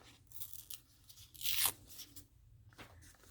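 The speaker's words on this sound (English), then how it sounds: "I buy the strip of Velcro. And just cut me off a square." Scissors cutting a square off a Velcro strip, a soft scratchy crunch building to one brief louder rasp, quiet and close with no voices.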